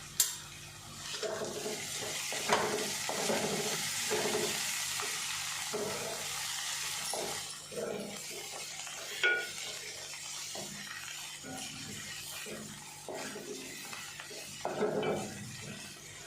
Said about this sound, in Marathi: आता 1-2 मिनिट आपल्याला ह्याला परतवून घ्यायचं आहे।